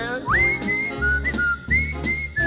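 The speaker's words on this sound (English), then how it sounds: "Oh, he whistles pretty. Yeah, like a bird." A person whistles a bright, sliding birdlike melody in a few rising and wavering phrases, close and clear over a low rhythmic musical background.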